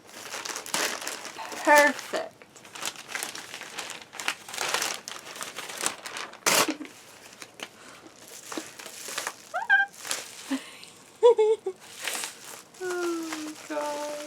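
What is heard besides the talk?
opening a package, paper crinkling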